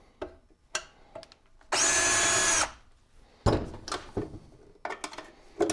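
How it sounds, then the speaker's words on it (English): Power drill boring out rivets on a vintage Dynastat DS 120 static eliminator, one loud sustained whine of about a second amid clicks, knocks and handling clatter, with no talking. "Does it need a bit more drilling, maybe?"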